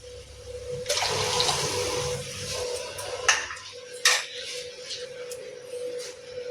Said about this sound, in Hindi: अब जिस कप से बेसन डाली थी उसी कप से 2 कप पानी और डाल देंगे।